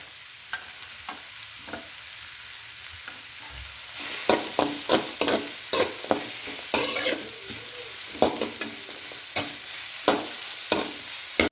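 Capsicum stir-fried in a pan for corn egg fried rice: a steady sizzle with frequent sharp scraping and clacking spatula strokes, growing busier and louder after the first few seconds, close and without talk.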